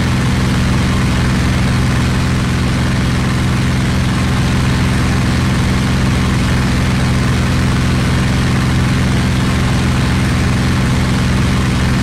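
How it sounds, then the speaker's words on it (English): Steady, loud drone of a P-47D Thunderbolt's radial engine running in overspeed in the IL-2 Battle of Bodenplatte flight sim, an unbroken low hum with no talk over it. "we've still got that engine overspeed sound"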